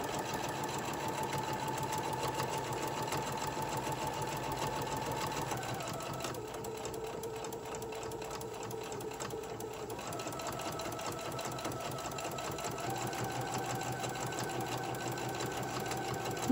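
A sewing machine runs steadily at close range, stitching a pet bandana with a continuous whirring, rapid needle chatter that shifts pitch slightly partway through.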